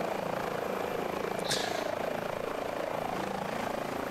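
Airbus H145 helicopter in Microsoft Flight Simulator, a steady low rotor and turbine drone heard fairly quietly for a few seconds, with a brief higher whoosh partway through and no talk.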